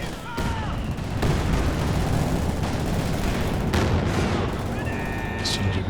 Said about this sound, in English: Exchange of grenades here.